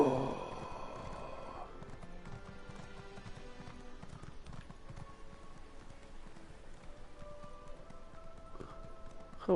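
Hooves clip-clopping steadily as a horse in a video game is ridden along, a continuous rhythmic patter under background game music and ambience, with a brief louder burst at the start.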